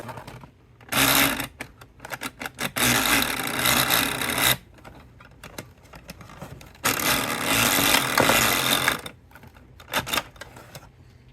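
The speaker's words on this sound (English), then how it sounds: "Anyway, there it is. Little chainsaw." A toy chainsaw's small buzzing motor roars in two long bursts of a few seconds each, with brief sputters and pauses between, close by and loud.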